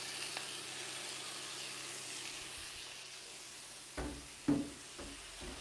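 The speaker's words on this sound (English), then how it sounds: "Oh, I love the sizzle." Steady sizzling of pork steak frying in a hot pan, with a few clanks of a utensil or pan toward the end.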